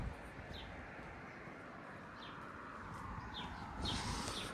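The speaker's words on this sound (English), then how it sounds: "I'm seeing a lot of birds here." Faint bird chirps ring out intermittently at sunrise over a steady urban street background hum in Scarborough, Toronto, with a few distant calls spaced a second or so apart.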